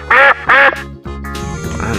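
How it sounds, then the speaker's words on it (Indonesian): Two loud, sharp quacks from a duck sound up close in quick succession, followed by a steadier toy-like musical tone. "Wow, ternyata ini adalah hewan bebek."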